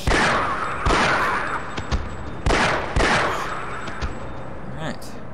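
Gunshots in a video game, several loud sharp bursts ringing out at irregular intervals with reverberant tails, close and dominant over a faint background.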